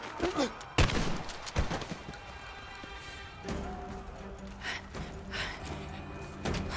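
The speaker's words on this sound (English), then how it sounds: "Action shotgun, there we go." Shotgun blasts ring out in a tense firefight during the village ambush in Rise of the Tomb Raider, with a few sharp booming shots standing out over a dense bed of game noise, music and chatter.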